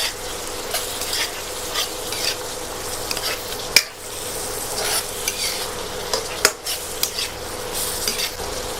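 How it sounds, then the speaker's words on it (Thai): Vegetables and puffball mushrooms being stir-fried in a pan, with continuous close scraping and sizzling and occasional sharp clanks of a utensil against the pan. "ผัดไปเรื่อยๆจนน้ำเริ่มแห้งนะครับ"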